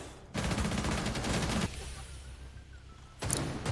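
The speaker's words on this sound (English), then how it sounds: "Wait, where's that gunfire coming from?" Rapid automatic gunfire in Rainbow Six Siege, a loud sustained burst of rattling shots, a pause, then another burst starting near the end, with no talk over it.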